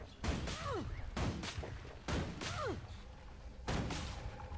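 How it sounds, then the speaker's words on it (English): A plant turret in Guild Wars 2 fires repeatedly at roughly one-second intervals, each shot a sharp thump followed by a descending whistling sweep, against a busy combat background. "Now there's this turret attacking me"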